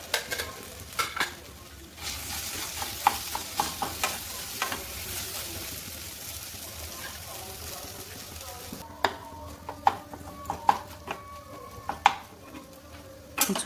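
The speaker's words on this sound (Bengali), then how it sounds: "দিয়ে সবজির সাথে ভালো করে আমি এটাকে মিশিয়ে নেব।" Mashed potato stirred into vegetables in a pan: soft frying sizzle runs underneath as a spoon scrapes and taps the pan in irregular strokes, close and fairly quiet.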